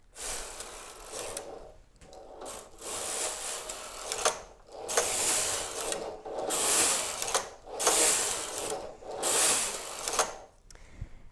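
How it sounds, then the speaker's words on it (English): A knitting machine carriage is pushed back and forth across the knitting, each pass a close, loud rattling mechanical sweep, repeating about every second and a half, with no talking. "take the carriage across the knitting"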